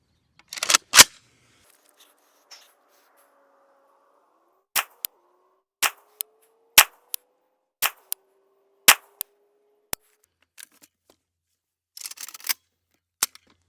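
Five sharp 5.45 caliber rifle shots, from a rifle fitted with a Texas Weapon Systems Gen3 dust cover, fired outdoors at a steady pace about a second apart, each a loud crack with quick decay, among a few quieter clicks and near-silent gaps.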